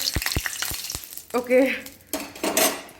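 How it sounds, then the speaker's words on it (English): Sharp clicks of a spoon on a pan, then bursts of sizzling as masala spices fry loudly up close. "Here are the masalas frying."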